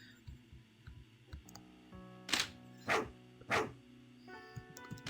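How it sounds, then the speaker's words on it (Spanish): In the RPG Maker game Misfiction, a giant dog gives three loud, evenly spaced barks, each about half a second apart, over a quiet looping game melody with soft clicks. "no me acercaré a ese perro gigante"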